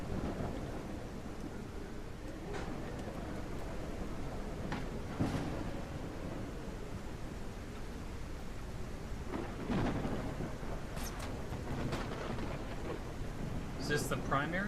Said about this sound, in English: Big storm.